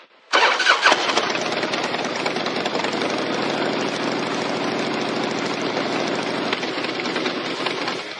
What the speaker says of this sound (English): Bike sounds great.